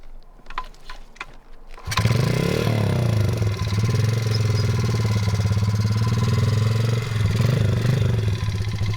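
A modded Honda pitbike's small engine catches after a few quiet clicks and thumps, then runs loud and close at a steady, buzzy idle that wavers slightly over several seconds.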